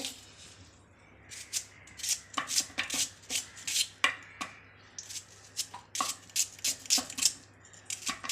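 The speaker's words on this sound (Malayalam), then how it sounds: "ഒരു സവോള എടുത്തിട്ടുണ്ട് നമ്മളെ അതൊന്ന് അരിഞ്ഞിടാവേ" A knife chops an onion on a board with rapid, crisp strikes that come in uneven bursts, close and distinct.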